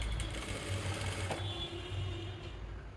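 A sewing machine runs steadily while stitching the armhole of a sleeveless kurti, a continuous close mechanical whir with a fast stitching rhythm that carries on for the full stretch with no talk over it.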